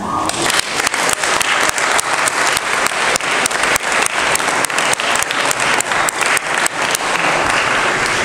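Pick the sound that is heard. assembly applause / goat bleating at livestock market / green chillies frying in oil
assembly applause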